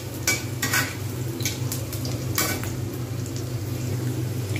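Onions frying steadily in a pan for a traditional Bengali dish, a continuous close sizzle with a few sharp stirring scrapes and clinks of a utensil against the pan.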